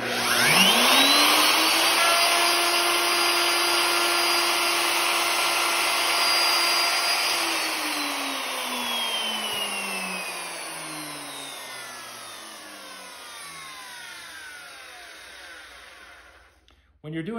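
A woodworking router cutting a dado in wood whines at a steady high pitch, then is switched off and spins down, its tone gliding lower and fading over many seconds until it stops.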